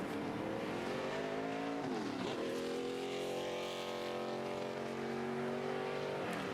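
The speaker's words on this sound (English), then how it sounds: "Brad Teague having a little trouble getting the car fired." A NASCAR Nationwide race car engine at Gateway qualifying roars loudly and continuously, the pitch sweeping up and down through repeated revs and shifts, close and unbroken, with no voices over it.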